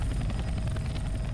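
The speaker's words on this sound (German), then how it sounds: "Helikopter!" Helicopter in the video game Left 4 Dead 2, a steady low rotor thrum with broadband engine wash filling the whole moment, loud and continuous with no voices over it.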